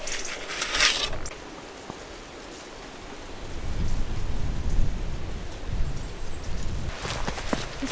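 Rain falls steadily on a stone farm renovation site, a soft continuous hiss with brief louder bursts of nearby drips or splashing at the start and end, no talking.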